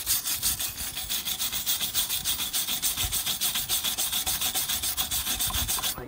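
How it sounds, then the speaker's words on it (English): A wire brush scrubs the corroded hub face of a Vauxhall Corsa E during a front brake pad and disc change, giving a steady, rapid back-and-forth scratching rhythm that runs close and continuous throughout. "So all I do is just get a wire brush and clean the face of this."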